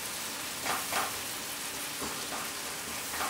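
Dried spices sizzle and bloom in hot oil for a beef bunny chow curry, a constant close crackling hiss with a few scraping stirs through it.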